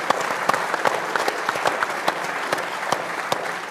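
Applause from an audience at a Hull FC fans forum: steady, dense clapping from a crowd, fairly close and continuous throughout.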